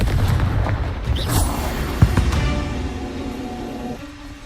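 Booming magical blast from the Confringo spell in Hogwarts Legacy, a loud rumbling explosion with sharp pops and crackles that fades into a low, lingering tail.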